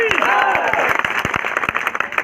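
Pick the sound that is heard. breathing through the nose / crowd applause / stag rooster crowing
crowd applause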